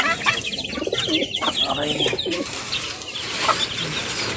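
Pet chicks eating give faint chirps and soft bird calls, with a louder cooing-like bird vocalisation and light rustling nearby in a dusty outdoor setting.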